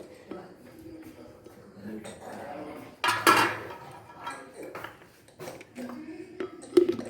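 A mayonnaise mixture with sunflower oil is whisked in a bowl, producing quiet, irregular close-up clinks and taps of utensil against dish, with a louder clatter partway through.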